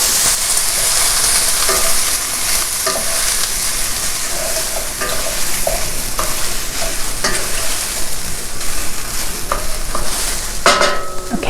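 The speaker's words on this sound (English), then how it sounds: "the sausages have been cooking for a little while" Sausages fry in a pan with a constant bright sizzle, broken by occasional scraping stirs and clinks close by, no voices.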